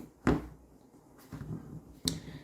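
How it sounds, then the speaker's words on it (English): Three sharp, crisp clicks spaced apart, close up and fairly quiet, from buttons on a phone case for a Google Pixel 6 being pressed. "The buttons have a nice click and feel to them"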